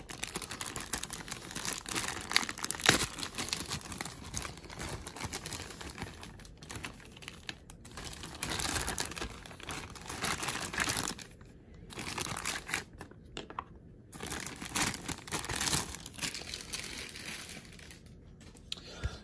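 Crinkling and tapping of cardboard and plastic packaging as a Star Wars Black Series Snowspeeder toy is unboxed, in close, busy bursts of rustling and clicking with brief pauses, no talking.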